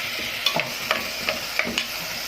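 Rice with salt, chili and cumin is stirred in a pan, a steady run of scraping, gritty strokes about every half second, close and fairly loud with a faint sizzle underneath and no voices.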